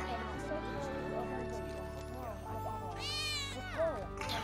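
Cats meow in the Final Fantasy VII Remake video game, several drawn-out mews layered over steady game music and ambience, with a voice speaking across part of it.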